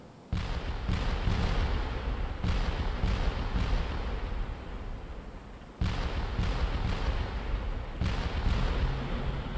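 A barrage of artillery shells and rockets in a wartime bombardment of an island, a dense, continuous roar of overlapping blasts with a sharp onset and a brief lull midway, heavy and loud throughout with no voices.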